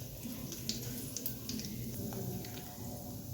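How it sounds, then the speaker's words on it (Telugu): Lentils splutter in hot oil in a pan for a tomato curry: a steady, fairly quiet sizzle with scattered small pops and crackles, no voice over it. "పప్పులు చిటపటలాడుతున్నాయి కదా"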